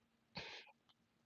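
A lone dry cough, soft and close, from a person during a live stream, with a tiny trailing catch of breath right after and quiet room tone around it.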